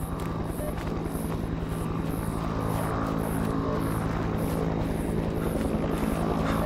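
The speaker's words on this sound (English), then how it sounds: "Oh, that's a helicopter." A video game helicopter's rotor thumps in a fast, steady rhythm over a dense engine drone, loud and sustained, with no talking.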